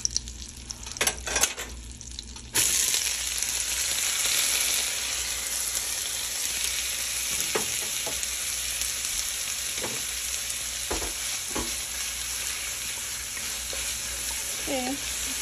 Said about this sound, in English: Okay, now we're gonna add the onions